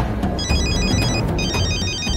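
A telephone rings with a rapid electronic trill in repeated bursts, loud and close, over a dense background of music and noise in an action movie scene.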